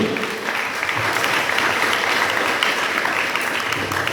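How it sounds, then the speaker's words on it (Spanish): A church congregation applauds loudly during an evening worship service, a dense, sustained round of clapping from many hands that fills the room throughout. "Démosle fuertes palmas al Señor en esta noche."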